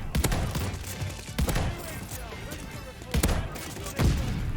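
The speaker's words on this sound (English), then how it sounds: "let's see how the shotgun goes" Shotgun blasts in a first-person shooter video game, several loud sharp reports at irregular intervals with some clatter between shots.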